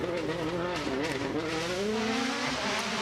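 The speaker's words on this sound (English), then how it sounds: "number 9 going off the line. What a noise!" A World Rally car roars off the start line on a rally stage at the Goodwood Festival of Speed, its engine loud and close as revs climb and shift, while a commentator talks over it.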